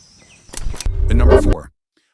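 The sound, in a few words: long-wattled umbrellabird call, deep and unnatural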